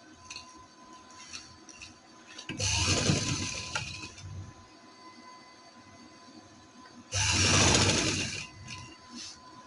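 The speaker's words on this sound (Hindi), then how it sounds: "अब हम इस पे सिलाई लगाएंगे।" Sewing machine stitching a trendy neck design on fabric, two loud bursts of about two seconds each separated by a quieter pause with faint background hum.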